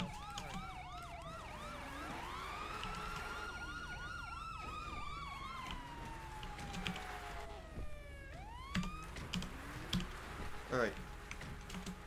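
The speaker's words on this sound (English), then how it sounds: "240 all units, siren check." Police siren in a roleplay video game, a wailing tone sweeping up and down steadily, then switching to a faster yelp near the end, loud and close with light keyboard-like clicks underneath.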